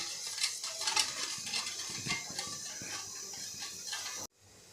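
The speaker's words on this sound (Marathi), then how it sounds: "आता हे पूर्णपणे आपल्याला साखर विरघळेपर्यंत ढवळून घ्यायचं आहे" A spoon scrapes and taps steadily in a bowl, stirring sugar into oil for naan dough, quiet and close, continuing until the sugar dissolves, then stopping abruptly.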